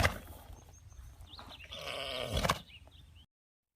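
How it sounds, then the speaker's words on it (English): A horse gives a single drawn-out groan, close and fairly quiet, swelling in the middle before trailing off into silence. "So here's what a groan sounds like."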